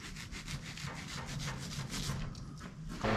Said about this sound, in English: So I got my little angle grinder, got a little Rolock disc on it